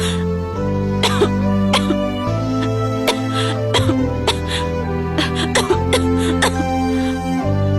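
A woman coughs several times in short, sharp bursts over steady background music from a domestic drama scene, each cough a brief, close, distinct hit.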